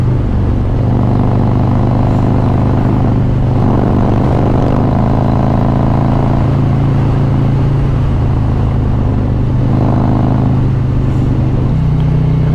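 A 2020 Harley-Davidson Road Glide Special 114 motorcycle rumbles loudly and steadily, its throttle swelling in several surges on a cold-weather ride past the Manhattan skyline.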